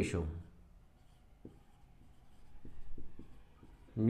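Pen writing during an accounting lesson on partnership ratios, a series of faint, short strokes and taps in the quiet between bits of a man's speech at the start and end.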